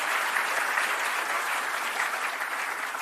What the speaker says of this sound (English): another round of applause for the team.